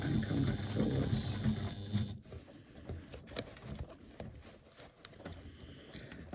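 A sewing machine stitches a bag seam at a quarter-inch allowance, running briefly in reverse and then forward again; the steady mechanical whir is loud for about two seconds, then drops to quieter, intermittent stitching and handling.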